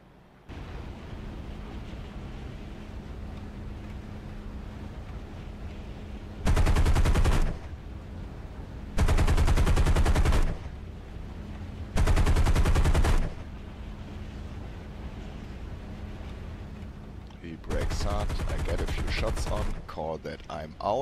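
Aircraft guns in a WWII air-combat video game hammer at a Dornier bomber in four loud, sustained bursts of rapid fire, each lasting about a second, over a steady engine drone.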